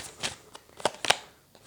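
Tarot cards shuffled and laid down, giving a few quick papery riffles and soft slaps spread across a short quiet moment, close and fairly faint, with no talking.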